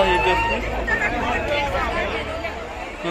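A throng of Shivaratri pilgrims climbing toward a hilltop temple near Pune makes a steady murmur of many voices, with scattered nearer calls and chatter over a constant background hubbub.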